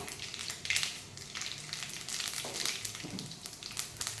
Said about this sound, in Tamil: ஆயில் ஹீட் ஆகிடுச்சு. கடுகு போட்டுக்கலாம், ஜீரகம்,